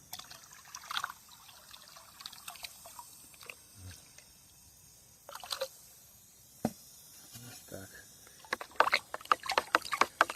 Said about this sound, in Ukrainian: І тепер виливаємо це все в відро.